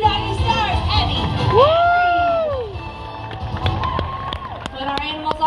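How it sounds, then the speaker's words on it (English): Audience at an Animal Actors show at Universal Studios Hollywood cheering and shouting for two dog stars, with loud children's whoops and a rising crowd roar that ebbs under a presenter's voice. "Make some noise for 2 doggy stars, Abby."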